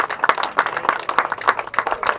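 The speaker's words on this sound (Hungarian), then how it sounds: "Kérnék szépen egy nagy tapsot a H11-es, azaz a legnagyobb ladásoknak megérdemlik." Applause from an audience at a rally award ceremony, a dense, steady patter of many hands clapping for a couple of seconds with no voices over it.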